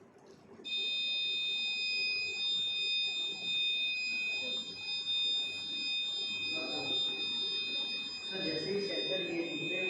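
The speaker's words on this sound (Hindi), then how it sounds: "जैसे ही सेंसर ये दूसरे वाले सेंसर पे जैसे पानी टच किया है तो तुरंत अलार्म वहाँ बच गया है" A flood-warning water sensor alarm, built by students, buzzes continuously after water touches its second sensor: a loud, steady electronic tone with bright harmonics holds from the first second to the end, while background noise and faint activity run underneath.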